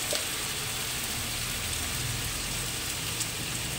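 Ground spices and salt fry in hot oil in a pan, a steady close sizzle crackling evenly throughout with no talk over it.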